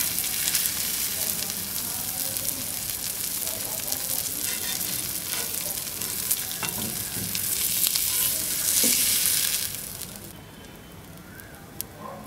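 Fish for Kerala-style pollichathu fries in a pan with a dense, steady sizzle and crackle, close and even. The sizzle swells briefly before dropping to a quieter hiss near the end, with no talk.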